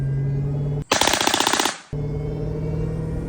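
A MAC-11 gun being bump fired lets off a loud, close burst of rapid shots lasting nearly a second, cutting sharply through a steady background hum, with no talking.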